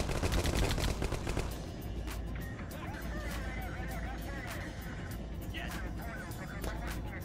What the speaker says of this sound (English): Take a couple of shots